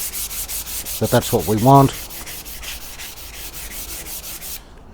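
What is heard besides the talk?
sanding grain filler off a wooden back panel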